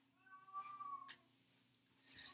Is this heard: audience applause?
no